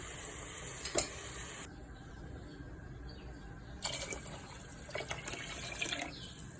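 Broth going into a pot of chicken soup with chicken cubes comes through as faint pouring and splashing, with brief bursts of liquid noise between quieter gaps, recorded close.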